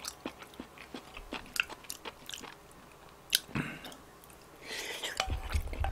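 Close-up eating of ham fried rice at a mukbang table, with moist chewing and scattered sharp crunchy bites in an uneven rhythm, and no talking.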